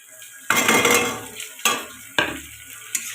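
Turmeric, chili and coriander-cumin powder stirred into a thin fish curry in a pan, three or four sharp scraping strokes of a spoon against metal, each one followed by a soft sizzle fading away.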